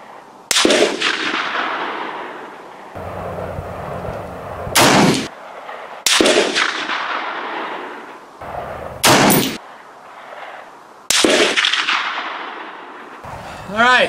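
Three loud, sharp rifle shots ring out from an M1A SOCOM at an outdoor range, each cracking close and echoing, fired at a steel post 200 yards away, with pauses of several seconds between them.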